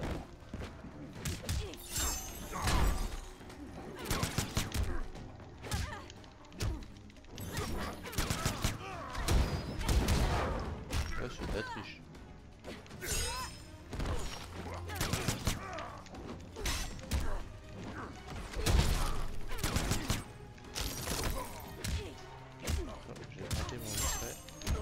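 Gunfire in the fighting video game Mortal Kombat X, heard as a dense run of sharp shots, crashes and heavy impacts in irregular bursts over game sound.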